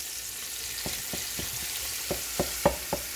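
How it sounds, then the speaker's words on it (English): Garlic sweats in oil with a steady soft sizzle while a wooden spoon stirs it, knocking about eight times against the pot, irregular at first and then louder and closer together, with no talking. "is going to be enough oil to sweat in, and plenty of garlic."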